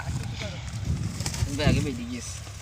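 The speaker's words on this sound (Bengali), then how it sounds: "আমাদের এই পায়রাগুলো রেসিং পায়রা ছাড়তে এসেছি।" A few racing pigeons in an open field coo softly up close, with faint wing flutters, while someone talks over them.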